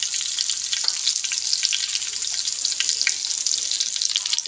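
Shami kebabs fry in ghee on a flat tawa, giving a bright, crackling sizzle with fine rapid spatters throughout, steady and close, with no voices.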